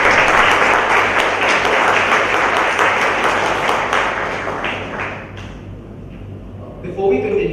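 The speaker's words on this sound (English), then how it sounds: "Audience, can you please have an round of applause?" Round of applause from an auditorium audience at a TEDx event, dense clapping that tapers off toward the end, followed by a brief faint sound.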